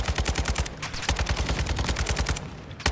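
Rapid automatic gunfire in the video game Call of Duty DMZ, a loud, close burst of quick repeated shots that continues without pause.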